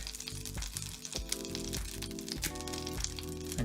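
An egg is cracked into a hot frying pan and sizzles there. A brief crack is followed by a steady, close crackle of frying.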